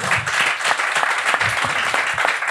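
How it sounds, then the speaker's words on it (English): A festival audience at a rap journalism panel applauds steadily, a dense, continuous patter of many hands clapping at moderate distance with no talk over it. "Please give a great round of applause."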